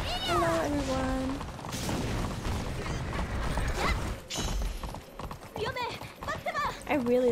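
A horse's hooves clip-clop in the online game Alicia Online, a brisk, loud, close hoof rhythm mixed with game music, mechanical clicks and voice-like sounds.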